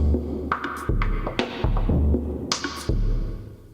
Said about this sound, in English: So this gives us a bit of an exaggerated electronic sound, and that was the peak mode.